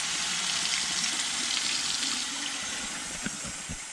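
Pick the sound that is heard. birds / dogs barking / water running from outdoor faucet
water running from outdoor faucet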